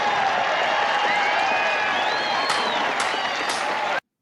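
A crowd claps throughout a played speech recording, a continuous mid-distance wash of applause with some voices mixed in, ending abruptly.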